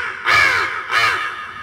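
A comedian's voice imitates a crow's caw on stage, giving two loud, harsh, nasal caws in quick succession, each about half a second long, close and clear with no other sound around them.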